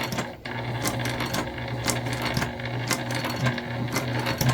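A sewing machine stitches straight through an east-west style wristlet onto its satin interior, a steady close mechanical whir with a low hum and regular clicking needle strokes running continuously.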